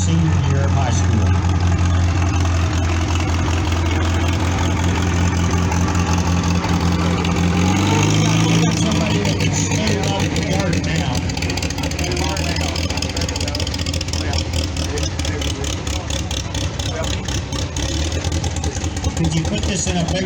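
An old 24-horsepower International H tractor engine chugs steadily at idle at a threshing bee show, close and loud, its low mechanical rumble running throughout while someone talks over it.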